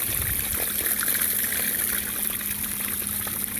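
Water trickles and splashes steadily through a homemade power sluice, a continuous close-up flow with no voices.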